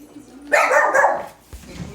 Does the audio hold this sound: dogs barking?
yes